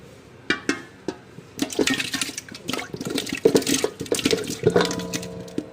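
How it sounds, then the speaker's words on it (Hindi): Peeled mangoes dropped into a large cooking pot holding about two kilograms of water, giving a few sharp metallic knocks, then a busy run of splashing, sloshing and pot clatter close by. "इस पानी में जो आम डाल देने हैं"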